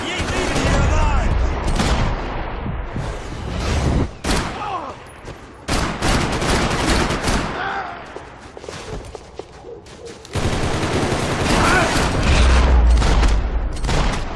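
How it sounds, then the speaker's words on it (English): Gunfire in the Max Payne 3 video game over Hoboken: dense bursts of shots and booms crackle loudly in waves, with brief lulls between volleys and shouted voices mixed in. "Gunfire over Hoboken."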